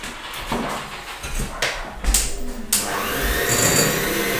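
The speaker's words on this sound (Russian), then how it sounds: "масло сейчас взбиваем" A home electric mixer whips butter for baking with a close, steady whirring buzz, broken by a few bumps and scrapes as the beaters knock against the bowl.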